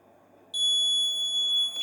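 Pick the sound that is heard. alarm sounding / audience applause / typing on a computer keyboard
alarm sounding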